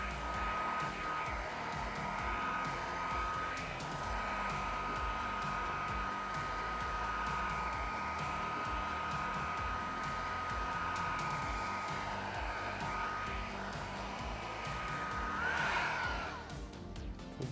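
A heat gun blows steadily while heating vinyl wrap on a Cybertruck frunk, a loud continuous whooshing roar with a faint whine that holds unbroken through the whole stretch.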